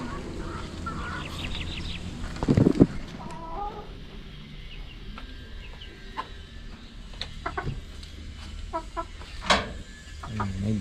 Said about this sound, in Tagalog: May darag chickens, marapit ng mangitlog. 5 roosters and 30 hens.